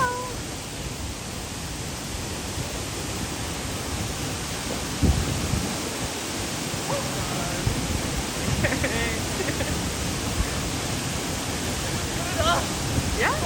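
A freezing waterfall roars as a broad, constant rush of falling water, loud and close. Faint voices and brief splashes rise above it now and then.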